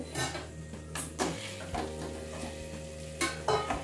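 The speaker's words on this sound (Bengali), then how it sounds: "একটু জল দিয়ে আমি মশলাটাকে কষিয়ে নিচ্ছি।" Spice paste (masala) for a low-oil vegetarian potato curry being sautéed with a little water in a pan, with steady close frying sizzle and repeated scraping stirs of a spoon against the pan, a few louder clanks.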